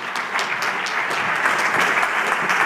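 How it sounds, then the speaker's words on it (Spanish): Audience at a Spanish-language science talk about Cajal clapping to welcome someone speaker to the stage, continuous mid-level applause with a few sharper individual claps standing out. "Un aplauso para ella"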